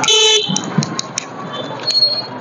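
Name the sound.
weak horn of a Suzuki Gixxer 250 motorcycle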